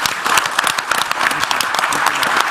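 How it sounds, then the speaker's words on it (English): Loud, dense applause from an audience at the launch of the African School of Governance, sustained and close, with the clapping pouring out steadily after a panel discussion. "Please give them a big round of applause."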